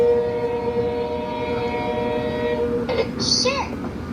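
A toddler's trilingual learning tablet toy plays an electronic train sound, a sustained tonal horn-like whistle over a steady rumble, loud and close, ending with a brief chime.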